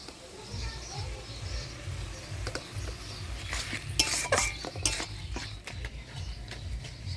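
Spinach being stirred with rice flour into a thick pithalu in a pot, a utensil scraping and clinking against the metal in steady strokes, with a low hum in the background.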